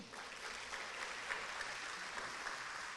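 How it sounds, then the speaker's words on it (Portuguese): A church congregation applauds during a worship service, a steady, even wash of many hands clapping that holds throughout at a fairly soft, distant level. "Vamos aplaudir o Senhor?"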